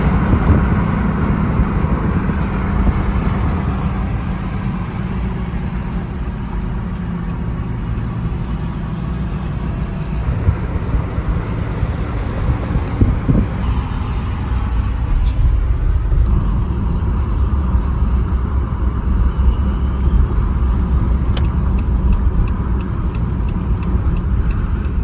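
A rebuilt Caterpillar 3306 turbo diesel engine running loud and close, a thick continuous rumble with a steady roar and no break throughout.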